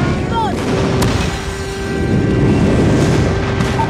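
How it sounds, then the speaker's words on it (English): Airstrike explosions in a video game crash and rumble continuously as heavy booming blasts, loud and dense throughout, with a brief whistling streak near the start. "Friendly airstrike incoming."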